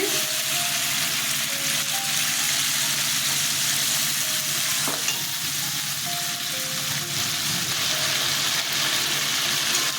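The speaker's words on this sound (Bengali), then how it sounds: "মশলাটা ছেড়ে দিলাম দইটা আগে ফেটিয়ে রেখেছিলাম দিয়ে দিচ্ছি" Steady loud sizzling of spices frying in a pan as whisked yogurt goes in, continuous bubbling crackle for the whole stretch with a faint stirring scrape, for a Bengali chana dal dhoka dalna.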